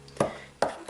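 A knife cuts through butter in a mixture for honey-roasted cashews, giving two crisp taps against the bowl or board, close and distinct, about half a second apart, with no speech.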